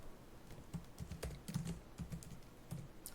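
Keys tapped in short irregular bursts on a computer keyboard while a file name is entered, close and fairly quiet, with no voices.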